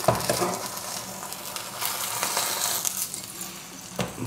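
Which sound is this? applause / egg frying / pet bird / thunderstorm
egg frying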